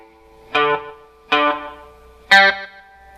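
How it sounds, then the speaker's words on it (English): Three separate plucked notes on a clean electric guitar with chorus and a very short, near-instant delay. Each note rings bright and shimmering about a second apart, then decays into quiet. "I have a delay effect that's very, very, like almost instantaneous"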